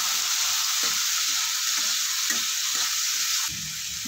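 Diced potato frying in ghee in a pan over a high flame, a steady loud sizzle and crackle running throughout with occasional stirring scrapes, no talking.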